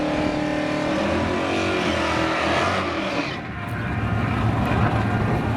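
Race cars roaring hard down a drag strip, a loud steady engine howl that dips briefly and then surges again.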